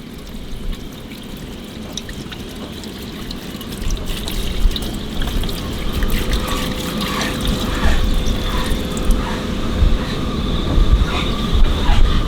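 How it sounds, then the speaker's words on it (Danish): Ordinary white household vinegar is poured out onto a surface. It makes a continuous splashing trickle that grows louder and fuller over several seconds against a low rumbling background. "jeg bare at hælde eddike på."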